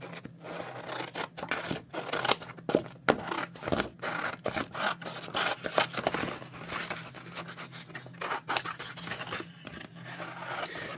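Scissors snip and scrape through a gel plate print, with repeated close crisp cuts in uneven rhythm and paper rustling between them.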